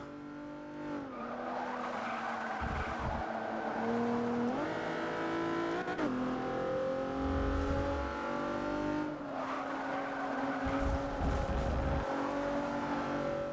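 A 1999 Mitsubishi EVO racing in the Forza 6 video game, its engine loud and close, rising and dropping in pitch through gear changes, with tire squeal and other cars running alongside.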